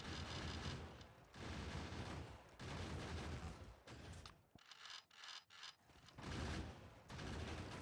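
Rapid bursts of automatic turret fire in Factorio, with loud rattling volleys that come in several long stretches and break into short choppy pops partway through.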